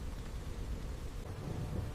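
Heavy rain pours steadily across open savanna ground where a deer herd stands, a dense broadband wash of water with low rumbling beneath, constant and close throughout with no voices.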